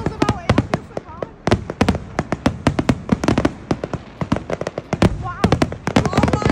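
Fireworks burst on Bonfire Night in a rapid, loud, irregular string of sharp bangs and crackles that echo close by, with voices speaking faintly underneath.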